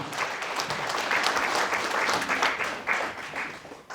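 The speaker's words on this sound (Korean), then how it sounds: "큰 박수 부탁드리시죠" Audience applause for a guest presenter at a Korean panel discussion on Seongnam redevelopment, a steady wash of many hands clapping that stays loud and even for the whole stretch, with no voices over it.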